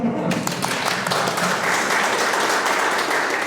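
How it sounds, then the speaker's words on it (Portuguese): A room of adults at a Catholic confirmation class breaks into a round of applause, a dense, steady patter of many hands clapping close by that carries on for a few seconds. "vamos passar salva de palmas"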